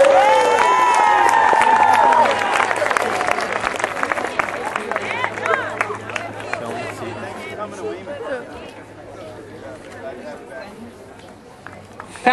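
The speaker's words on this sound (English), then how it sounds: "How about a nice round of applause for Durfee High School?" A crowd applauds a high school band receiving a bronze medal at a school music awards ceremony, cheering and a whistle rising at first, then clapping mixed with chatter that gradually fades.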